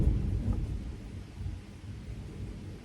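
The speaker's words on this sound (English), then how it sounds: "this thunder is crazy" Thunder rumbles low and heavy during a storm, a continuous deep roll with rain hiss underneath, strongest at the start and then a sustained grumble without voices.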